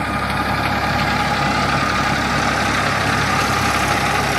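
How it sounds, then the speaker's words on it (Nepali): A tractor working in a rice paddy field runs steadily nearby, its loud, constant engine drone and rumble continuing unbroken throughout. "आजभोलि चाहिँ ट्र्याक्टरले मस्त काम हुन्छ है।"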